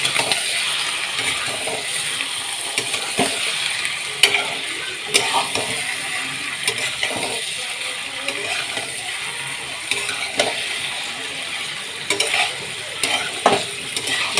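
Desi chicken pieces frying in oil for a curry, a steady close hiss and sizzle with scattered clicks and scrapes of stirring throughout, no talking.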